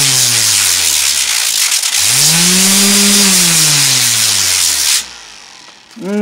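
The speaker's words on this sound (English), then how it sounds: "the other way you could do that is just stick it on your palm sander" A palm sander fitted with sandpaper buzzes loudly and close against a tile bullnose edge, its motor pitch sliding and wavering as it works, then cutting off abruptly near the end before briefly starting again.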